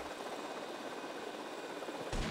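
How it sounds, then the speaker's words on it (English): A helicopter in the video game GTA Vice City drones steadily at moderate distance, its buzzing rotor noise continuous before a sudden louder burst near the end. "Should be shooting a helicopter."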